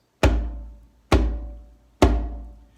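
Three deep, booming hand strikes on a drum, evenly spaced about a second apart, each thud decaying before the next.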